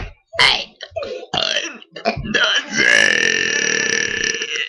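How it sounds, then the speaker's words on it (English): Children burp repeatedly in a near, loud run of belches, first short and choppy, then one long drawn-out burp that holds for a couple of seconds. "this is the non-stop burping children."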